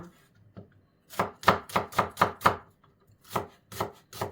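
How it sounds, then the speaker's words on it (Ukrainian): A knife chops an onion quickly on a board, a run of six sharp strokes followed by three more after a short pause, loud and close, with no talking. "Тож спочатку ми ріжемо цибулину"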